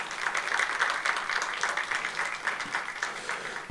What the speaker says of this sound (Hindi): मैं चाहता हूं कि हम इनका ताली बजाकर स्वागत करें